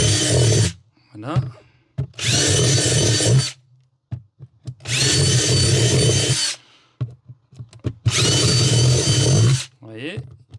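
A power drill boring small holes for a balcony planter, loud close whirring bursts of a few seconds each, three main runs separated by pauses where someone talks briefly.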